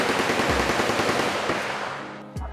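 Rapid automatic gunfire cracks in a fast loud burst at the Cu Chi Tunnels shooting range near Ho Chi Minh City, trails off, and ends in one last sharp shot.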